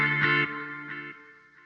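Sustained electric guitar chords through a delay pedal, with a processed, effected tone, notes repeating and trailing off as echoes fade over under two seconds.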